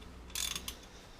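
A deep six-sided socket pushed onto a Halfords 1/2 inch drive ratchet, giving a short close metallic click and rattle followed by a second small snap, then quiet.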